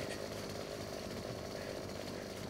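Chainsaw bayonet revving as it saws through an enemy in the Gears 5 video game, a sustained buzzing motor drone that stays steady and fairly quiet for the whole stretch, with no talking.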